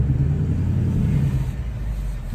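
A 2019 Ford Mustang GT with the GT Performance Pack idles in a deep, close rumble as the gas is lightly touched, producing a mild, steady low-pitched swell rather than a sharp rev, with no voices over it.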